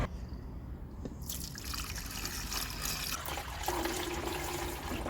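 A car's windscreen washer fluid pushed through by a newly fitted pump, making a steady trickling, splashing spray that runs continuously and fairly close, with no talk.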